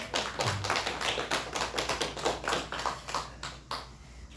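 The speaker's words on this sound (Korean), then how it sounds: "잠깐 일어나시면 좀 박수로 환영하겠습니다." A church congregation at a Sunday service claps to welcome a first-time attendee, a steady run of many hands clapping together at moderate volume with a low hum beneath it.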